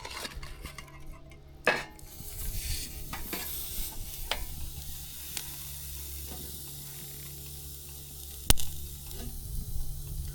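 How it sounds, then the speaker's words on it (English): Steak sizzles softly on a pan over campfire coals, with salt crackling and occasional sharp metallic clinks and scrapes of cookware, faint and close in a quiet outdoor camp setting. "you can hear the salt popping"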